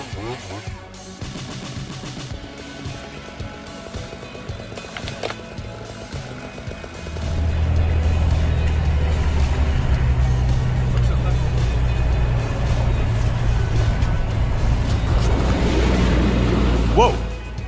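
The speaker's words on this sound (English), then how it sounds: "Check out that timber truck battling the mud" A timber truck's engine labors through deep mud, a heavy low rumble that swells loudly after a few seconds and holds steady, with mixed machinery noise beforehand.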